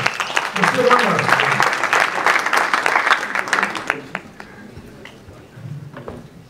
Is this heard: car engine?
no